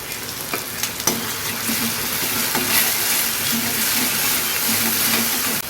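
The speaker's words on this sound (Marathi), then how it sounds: "कांदा पण चांगला फ्राय झालेला आहे आता आपण टोमॅटो टाकून घेऊ" Onion and tomato frying with salt for a Maharashtrian chicken curry, a loud continuous sizzle with a few sharp stirring knocks near the start, no talk.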